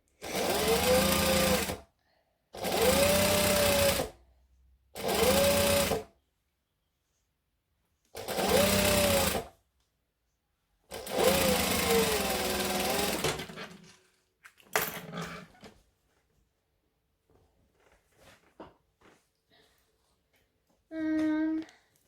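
A sewing machine stitches a Christmas tree skirt in several close, loud bursts separated by silences, followed by faint clicks and handling noises and one last short run of stitching.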